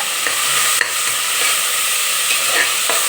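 Onion sautéing in a hot pan gives off a loud, steady, close sizzle that holds evenly throughout, with a few faint scrapes from stirring and no voices.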